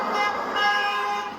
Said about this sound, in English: Horns honking in solidarity with these NJ Transit engineers holding the picket line here in Hoboken